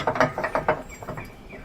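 A steel bolt slides and scrapes through a heavy-duty hitch-mounted e-bike rack, several short metallic clacks and rattles clustered in the first second, then fading to a quieter scrape.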